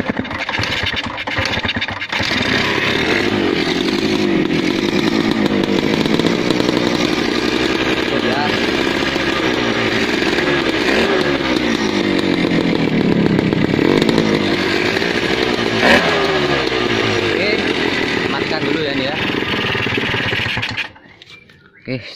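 A long-idle Suzuki Satria two-stroke motorcycle with an ignition fault starts and runs with a loud, buzzy, uneven rattle, revving slightly before cutting out, while someone speaks over it.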